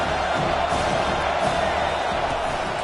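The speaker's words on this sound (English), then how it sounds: "Here comes the crowd trying to make it tough on 3rd and long" A football stadium crowd roars steadily during a Penn State versus Michigan game on third and long, a dense wash of noise throughout.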